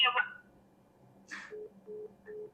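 Three short, even telephone dialing beeps for a phone call, spaced at a steady rhythm and fairly faint, following a brief burst of noise and then near-silence.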